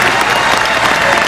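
A crowd applauding loudly after church singers perform at an evening Honor Flight gathering, dense steady clapping close by.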